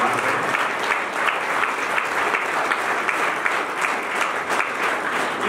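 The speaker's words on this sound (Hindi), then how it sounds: "एक बार जोरदार ताली बजाकर उनका स्वागत सम्मान करें" Loud, steady applause from a school ceremony audience welcoming a student's mother, dense clapping sustained without pause and without talk.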